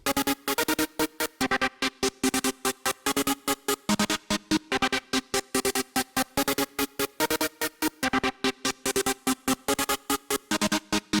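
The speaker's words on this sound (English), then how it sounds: "it has this trance gate, which is done by LFO 2, which creates this nice transy pattern" A bright synth pattern chopped by an LFO-driven trance gate into fast, rhythmic on-off pulses, a steady gated stutter repeating throughout without pause.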